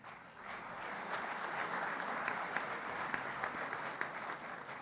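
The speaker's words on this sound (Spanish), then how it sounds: "Un aplauso para él." An audience at a university event applauding a guest speaker with continuous, even clapping, moderately distant and steady for several seconds.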